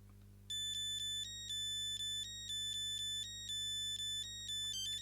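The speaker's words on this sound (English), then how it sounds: "I just want to listen to some ringtones, frankly." A Sony Ericsson T68i mobile phone plays a bright polyphonic ringtone, a fast melody of clean electronic beeps in short repeating phrases over a steady low hum, loud and close with no voices.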